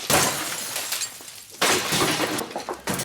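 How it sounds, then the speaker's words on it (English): A kitchen is smashed apart in a dramatic TV scene, with loud bursts of shattering glass and crashing debris coming in several violent waves separated by short quieter gaps. "moment number 3 is when Nick smashes the shit out of his kitchen"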